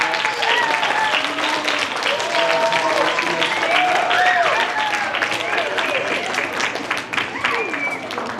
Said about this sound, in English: Give all the candidates a big round of applause.